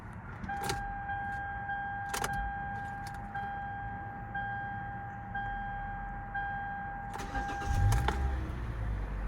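In a 2014 Hyundai Elantra Limited, a steady two-tone interior chime repeats alongside clicks before the 1.8 liter engine cranks and catches near the end.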